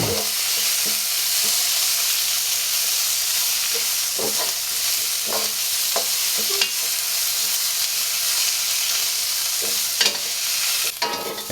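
Pickled mustard greens tossed with garlic in a hot wok, a steady loud sizzle with scattered scrapes and clanks of stirring, no voices.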